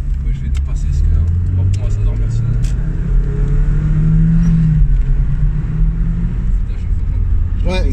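An MG TF roadster accelerates hard to overtake, its engine rising in a continuous close rumble as the revs climb, with wind and road noise and someone talking over it.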